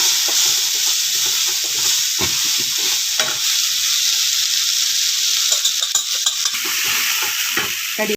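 Soaked poha being stirred in a hot pan, with a steady sizzle and frying hiss under repeated scraping strokes of the spoon, close and fairly loud throughout with no talk.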